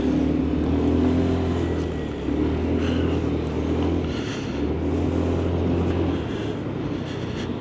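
Queue of cars in rush-hour city traffic heard from a motorcycle on a work commute; a steady engine drone and nearby vehicle rumble with a low idling hum, fairly loud and continuous.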